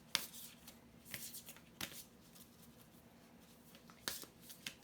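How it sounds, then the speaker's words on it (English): A Language of Light tarot oracle card deck being shuffled by hand, with soft papery riffling bursts arriving in irregular clusters, quiet and close with no talking. "Okay, so first I'm going to go ahead and do these Language of Light, the Secret and Language of Light"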